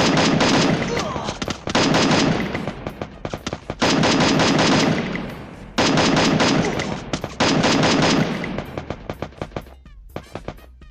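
Rapid bursts of M500 gunfire in the Free Fire battle royale game, loud, close volleys of repeated shots in several sustained strings separated by brief pauses, ending in sparse single shots.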